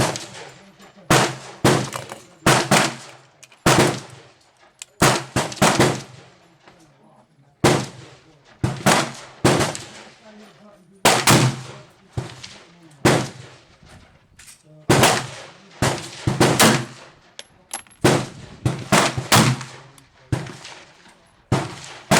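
Pistol shots with Winchester rounds from a Colt 1911 or a Glock 30SF, sharp loud reports repeating every second or so at a steady pace, each ringing out briefly, with some talk underneath.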